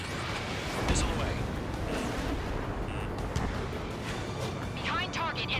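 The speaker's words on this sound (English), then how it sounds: "Missile away." Missile launch and blast in the combat flight game Ace Combat 7, heard as a steady rushing roar of jet and weapon noise with a muffled boom, continuous and fairly loud, with radio chatter faintly underneath.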